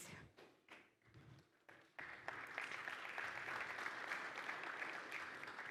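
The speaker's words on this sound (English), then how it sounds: "I love the fact that you guys just continue applauding" Audience at a Garmin Fenix 8 watch launch event in the Middle East, a few scattered claps that swell into steady, dense applause from a large crowd, continuing evenly to the end.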